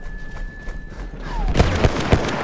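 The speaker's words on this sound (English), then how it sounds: "Next up is a rifle in the medic class called the Mondragon, also known as the M1908." A Mondragon M1908 rifle firing in Battlefield 1, a few sharp, fairly close shots in quick succession following a quieter stretch of battlefield ambience.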